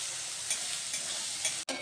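A spoon stirs mustard spice paste frying in a pan, a close, steady sizzle with soft scraping strokes and a brief gap near the end.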